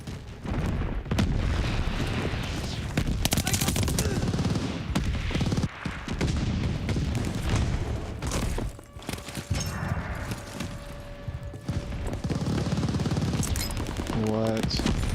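Light machine gun fire in a multiplayer video game, heard as dense, loud bursts of gunfire and booms running throughout, mixed with game effects, while people talk over it.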